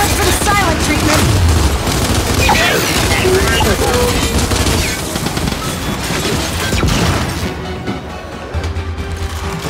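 Dense, loud gunfire in the Gears 5 video game, continuous bursts of automatic fire and impacts across the whole stretch, with shouted voices mixed into the battle.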